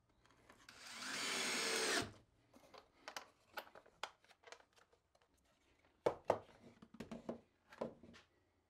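A power tool whirs steadily for about two seconds while bolting an exercise wheel for a pet rat onto a platform, followed by scattered clicks, taps and handling knocks of parts and hardware.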